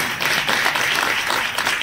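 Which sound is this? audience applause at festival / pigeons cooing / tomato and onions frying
audience applause at festival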